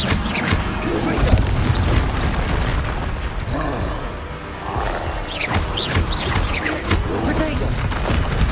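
Confringo fire spell explosions in the game Hogwarts Legacy, repeated loud booms and bursts in quick succession, dense and close, with a brief lull midway before more blasts follow.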